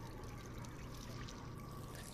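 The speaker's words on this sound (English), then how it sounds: "Add some water." Water pouring in the VR game Job Simulator, a steady continuous splashing stream running throughout at low level with no talk.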